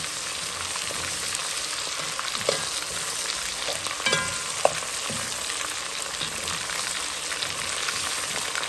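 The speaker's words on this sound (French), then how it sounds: "Les oignons ont bien gagné la chaleur." Onions fry in a pan as the base of a chicken dakatine, giving a steady close sizzle. A few soft clinks and scrapes of stirring sound over it, with no voices.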